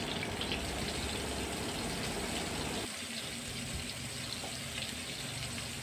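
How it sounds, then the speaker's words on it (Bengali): Cauliflower frying in a pan on a gas stove over a medium flame, a dense, even sizzle that drops to a softer, steady hiss partway through, with no voices. "ফুলকপিটা ভাজা হচ্ছে"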